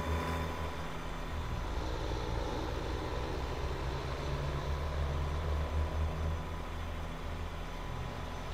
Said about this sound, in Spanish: Ese tráfico de este mapa se escucha espectacular